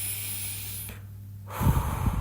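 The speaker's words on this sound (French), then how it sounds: "Une deuxième grande respiration" A deep breath taken during a guided meditation: soft airy hiss that drops away briefly, then a fuller, rougher exhalation with low rumble, close and without talk.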